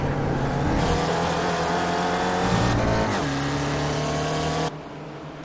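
An SRF race car in the iRacing sim at Sebring's club circuit gives a loud, steady engine whine that drops in pitch as the driver lifts off the throttle, then climbs again before cutting off abruptly.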